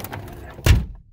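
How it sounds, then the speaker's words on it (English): Power door locks on a 1998 Nissan 240SX S14 actuate with a single quick, solid thunk, close and fairly loud, after a quiet moment. "All the door locks still works."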